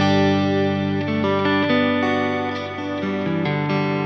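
Sustained guitar chords wash out in a lush Strymon reverb with a gentle wavering modulation, changing chords every second or so, with no talking.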